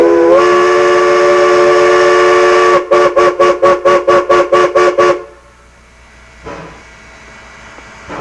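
A steam locomotive whistle sounds one long, steady blast, then a rapid series of about eight short toots, followed by quiet rumbling.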